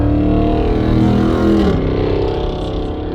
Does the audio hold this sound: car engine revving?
yes